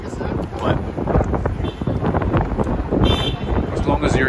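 Gusty wind on a very cold day in Manhattan, New York City, roars and buffets the microphone with a constant low rumble, a voice partly buried beneath it.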